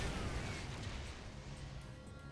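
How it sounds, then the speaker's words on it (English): Explosion in StarCraft 2, a dense booming blast with rumbling low-end reverberation that decays over a couple of seconds amid ongoing battle noise. "Another good explosion sound."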